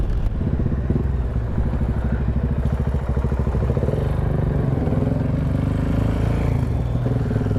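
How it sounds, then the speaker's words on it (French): A 2020 Honda Gold Wing Bagger with a DCT gearbox running its engine while the bike reverses, giving a steady, close, low rumbling hum with a faint mechanical clatter throughout and no speech. "Ça permet du coup de reculer la moto"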